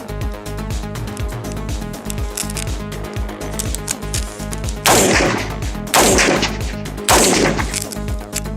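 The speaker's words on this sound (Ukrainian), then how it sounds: "Роблю по три постріла" Three loud, sharp AR-15 rifle shots ring out near the end, spaced about a second apart, over a steady mechanical background hum.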